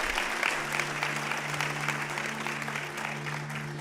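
A church congregation applauds during a Sunday service, sustained dense clapping from many hands at moderate volume, with a low steady hum underneath and no voice over it.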